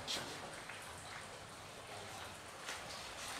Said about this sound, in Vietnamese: ở ngoài trời thì có một chút mưa